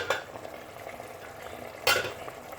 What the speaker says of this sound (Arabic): غادي نحركو اللحم ديالنا حتى تدخل فيه هاد البصله مزيان